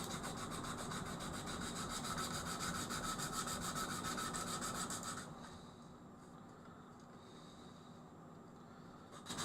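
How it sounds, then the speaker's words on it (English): Hand sanding of scratched plastic makes a steady close rasping scrub for about five seconds, then fades into quieter faint rubbing with no talking. "Got a bit of extra sanding to do on this one."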